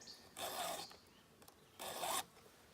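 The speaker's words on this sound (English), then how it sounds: "that's how I sharpen my saws" A file sharpening chainsaw teeth makes two distinct rasping strokes, each about half a second long, close and quiet with a brief pause between them.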